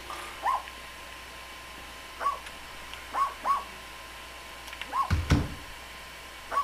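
A dog in a video game gives several short, yelping barks spaced through the clip, fairly quiet over a soft background hum, with a brief louder thump near the end.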